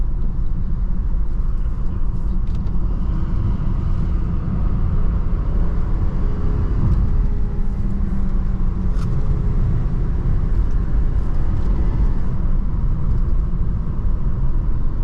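A BMW E90 328i pulling away under acceleration, its loud, continuous engine rumble and road noise steady throughout with no one talking.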